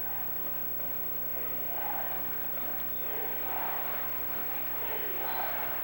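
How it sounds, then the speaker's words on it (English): Basketball arena crowd in Los Angeles during an NBA playoff game between the Lakers and Phoenix, a steady roar of cheering and chatter with swelling surges, heard alone without commentary. "one thing you'll notice from the crowd here in Los Angeles this year, they're much more vocal than they've been in past years"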